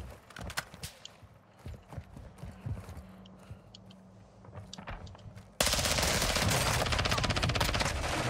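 Rapid automatic gunfire from Call of Duty Modern Warfare II (Warzone 2.0 DMZ mode) erupts loud and sustained after scattered quieter shots and clatter, filling the second half without a break.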